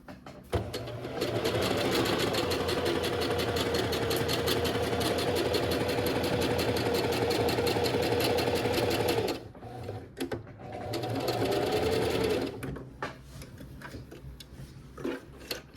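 A sewing machine stitches kimono fabric in a steady, fast mechanical whir, running for several seconds, pausing briefly, then running again before stopping; no voices.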